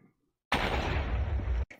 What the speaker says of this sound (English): So now we blow up the item with the stars inside of it.